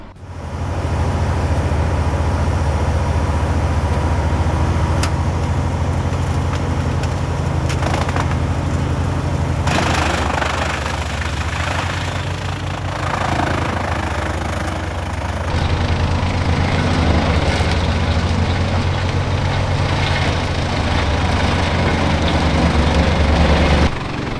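Heavy Arctic lorries working wood chippings, one loading and one crushing and lifting, a loud constant diesel engine drone with shifts in load and a rougher surge midway, no talking.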